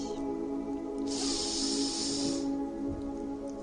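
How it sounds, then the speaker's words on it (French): A slow, steady inhalation through the nose during guided meditation makes a soft, airy hiss lasting about a second and a half over quiet, sustained background music. "on inspire par le nez"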